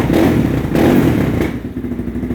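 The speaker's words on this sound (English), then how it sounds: "sorry you had to deal with the engine noise" A Suzuki DRZ big bore stroker motorcycle engine with a Lectron carburetor runs close by on first start with a throaty, pulsing rumble, briefly surging then settling to a steady idle.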